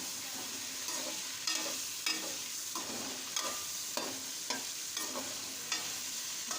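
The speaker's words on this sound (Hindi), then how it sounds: "तेल हमारा अच्छे से गर्म हो गया है और इसमें हमने अपना चिकन ऐड कर लिया है।" Chicken pieces frying in hot oil in a karahi, a steady close crackling sizzle with repeated stirring scrapes and clinks at irregular intervals, no talking.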